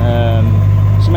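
1969 Mustang Fastback engine idling up close, a loud, steady low rumble with a smooth even tone and a faint high whine, with speech over it.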